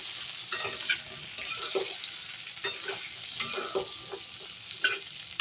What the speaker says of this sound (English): Light fry, don't fry, golden in color, just slightly fry.